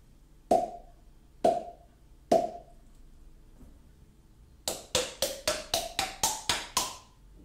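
Body percussion imitating a water drop: three spaced, resonant plopping taps with a pitched ring, then a quick run of eight drops whose pitch rises step by step.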